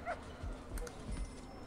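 Dog barking inside the prison-management video game Prison Architect, a few short yips over a low game background, fairly faint and brief.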